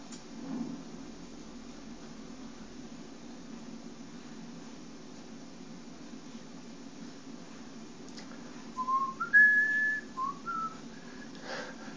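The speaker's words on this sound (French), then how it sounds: "J'ai plus de souffle alors que je viens à peine de siffler" A person whistling inside a Tomb Raider game scene, a short run of rising and falling clear tones near the end, heard over a steady low background hum after a long quiet stretch.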